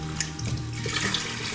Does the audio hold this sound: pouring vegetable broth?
yes